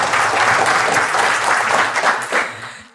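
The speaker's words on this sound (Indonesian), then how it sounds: "Tepuk tangan lu buat Anda semua ya." Audience applause at an indoor health product education talk, a dense burst of clapping that holds steady for a few seconds and then tapers off.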